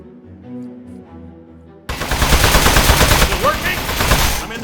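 Automatic gunfire in the video game Aperture Desk Job bursts in loud and dense after a quieter musical opening, a continuous rattling barrage that holds until the end.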